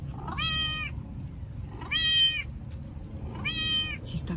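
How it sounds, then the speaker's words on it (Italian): A phone cat-translator app plays three synthetic meows at an even pace, each a clear, bright tone, with faint background noise in between. "Questa applicazione traduce quello che dici nella lingua dei gatti."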